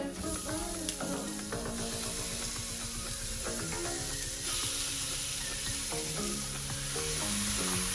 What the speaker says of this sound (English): once we've done the frying of all our little ingredients, we can put the chicken in